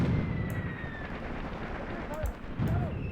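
Mortar shells burst in Graviteam Tactics with deep booming explosions, one near the start and others around the end, over rumbling battle noise and a voice speaking.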